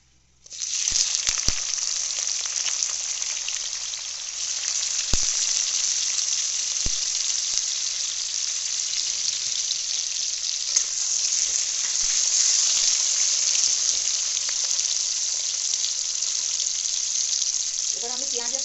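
Onion dropped into hot oil for chow mein, bursting into a loud, steady sizzle right after a brief quiet start and frying continuously up close, with faint clinks near the end.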